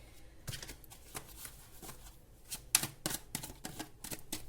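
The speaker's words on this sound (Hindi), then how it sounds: "कार्ड तो अपने आप ही गिर रहे हैं" Tarot cards slip and fall from a deck, a series of soft papery flicks and slaps at uneven intervals, faint and close in a quiet room.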